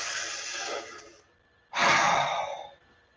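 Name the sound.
deep breath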